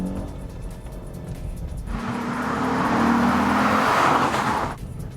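Lexus IS350 F Sport sedan pulling harder on a freeway, cabin noise swelling into a loud broadband engine and road roar for about three seconds, with a rising drone underneath, then easing back.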